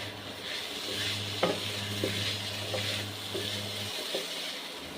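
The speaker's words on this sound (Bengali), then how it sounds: "এরপর আমি এতে লবণ দিয়ে নিলাম এবং চালটা ভালোভাবে ভেজে নিলাম।" Broken rice stirred and fried with salt in a pot: a soft, steady sizzle broken by about five scraping stirs of the spoon, heard close, under a low hum that cuts out near the end.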